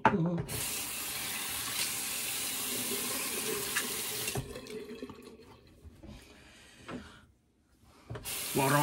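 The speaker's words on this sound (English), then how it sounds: "Water on a razor." Tap water runs steadily over a razor at a sink, then the flow stops and short splashes and drips follow before the water comes on again.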